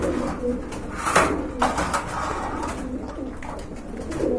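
Pigeons for sale coo in a busy loft, soft rolling coos from several birds nearby, mixed with brief rustles and wing movement.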